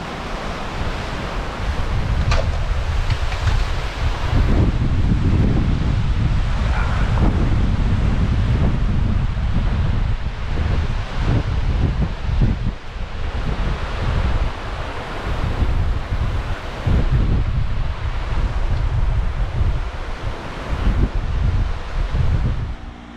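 Hurricane Debby's wind gusts roar loudly and continuously, buffeting the microphone and swelling and easing in surges for over twenty seconds, with rustling underneath.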